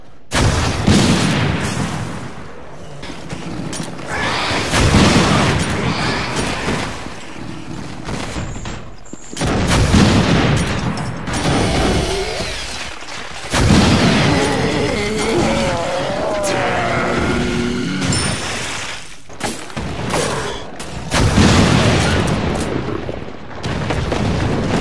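Loud, repeated RPG-7 rocket launcher blasts in Resident Evil: Revelations boom again and again against many enemies, each heavy burst rolling off amid rumbling game noise, with no talk.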